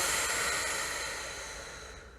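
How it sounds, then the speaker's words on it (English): A single deep exhale during a guided meditation and movement session, a soft airy breath that starts fairly loud and close and fades steadily over about two seconds, with no talking over it. "take a deep breath, inhale. And exhale"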